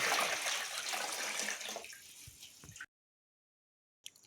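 Water splashes and pours steadily for a few seconds, then abruptly stops into silence before a brief splash at the end.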